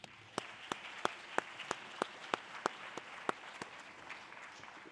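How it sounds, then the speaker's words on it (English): Scattered, evenly spaced hand claps from a small audience at a pageant, about a dozen sharp individual claps, faint and distant over quiet room tone. "Let's give them a round of applause."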